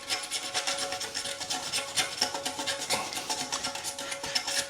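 Dried Fortress primer and undercoat is scraped off a tin, a close, scratchy, uneven rasping with quick repeated strokes and no talking.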